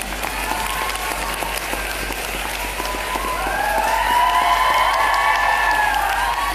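An audience at an education festival in Palembang breaks into broad applause that grows fuller midway, joined by rising cheers and shouting voices.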